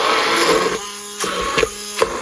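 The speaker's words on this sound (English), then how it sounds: "we're going to try this again with the regular immersion blender thing" An immersion blender mashes cooked cauliflower with a steady, strained whir that dips in pitch as it bogs down, broken by a few short bumps and clicks as it works through the mash close by.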